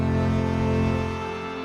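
Sonicware Texture Lab granular effect with grain size set to zero, a dense, steady harmonic drone holding for under two seconds, loud and alone, fading slightly toward the end.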